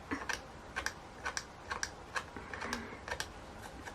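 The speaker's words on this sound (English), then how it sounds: "I always find very relaxing the sound of the plastic." Plastic Blythe doll parts being handled give off light, crisp clicks and taps in an irregular rhythm, quiet and close, with no talk.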